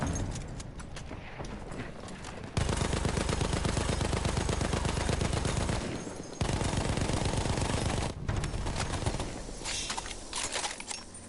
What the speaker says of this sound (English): Should we give the MG15 a bit of a go?